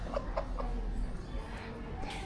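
A rooster clucks in a few short, soft calls under steady low background hum, with a voice nearby.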